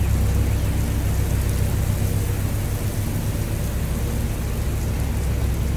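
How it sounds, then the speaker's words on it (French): Winter rain in Auckland, New Zealand, pours as a steady, loud, broadband hiss that fills the whole stretch without pause, with a low rumble underneath and no voices. "On a été très bien accueillis par de la pluie."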